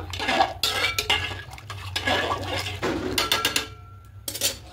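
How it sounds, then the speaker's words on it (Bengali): Rice grains tipped into a cooking pot and stirred with a metal spoon for white vegetarian fried rice, giving clattering scrapes and clinks against the pot that come in bursts, close and moderately loud, with no talk. "এবার চালটা এখানে দিয়ে দেবো। খুব ভালো করে মিশিয়ে নেব।"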